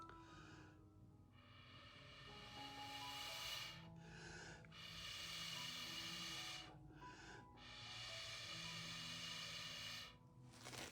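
Someone blows air in long breathy gusts across wet fluid acrylic paint, several sustained hissing puffs separated by brief pauses, close to the microphone.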